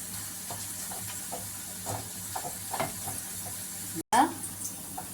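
Onion pakoda frying in hot oil, a steady close sizzle and bubbling with a few soft scraping turns and a brief break near the end.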